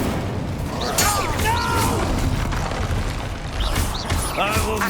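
Incendio fire spell casts in the Hogwarts Legacy video game, a run of bursting whooshes and booms over a constant dense combat din, with game voices crying out at intervals.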